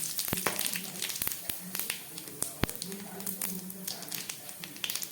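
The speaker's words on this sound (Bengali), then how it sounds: "চিংড়ি মাছ ভাজার তেলের মধ্যে আমি দিয়ে দিচ্ছি এই গরম মশলা ফোড়ন, দিয়ে দিচ্ছি দুটো তেজপাতা আর একটা শুকনো লঙ্কা" Whole garam masala spices, two bay leaves and a dried red chilli crackle and sizzle in hot oil left from frying prawns, a steady fizzing bed with sharp pops and taps throughout.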